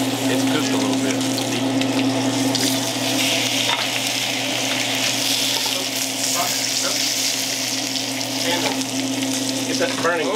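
Dry-aged ribeye steak sizzles steadily in a hot pan, a continuous crackling hiss with a low hum underneath and occasional faint clatter.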